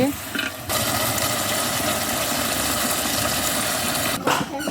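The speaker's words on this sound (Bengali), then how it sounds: "এবার এর মধ্যে দিয়ে দেওয়া হবে পানি" Water pours steadily into a cooking pot of veg biryani, a continuous broadband splashing rush lasting several seconds before it cuts off, with a brief clatter at the end.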